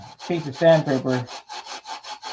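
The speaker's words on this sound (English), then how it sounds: "to take this piece of sandpaper" A piece of sandpaper is rubbed across wood in a run of rhythmic back-and-forth strokes, close and clear, with a brief voice sounding over the first strokes.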